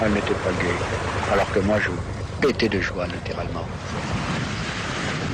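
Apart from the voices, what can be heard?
sea waves heard from a sailboat off Plymouth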